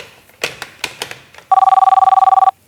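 Several faint knocks and thumps, then a telephone rings with an incoming call at an electricity board office, a loud, close, rapidly pulsing electronic trill lasting about a second.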